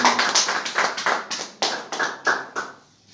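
Hands clap together in a church service, in a quick run of sharp, fairly even beats that rise and fall in loudness for about three seconds, with no voices over them.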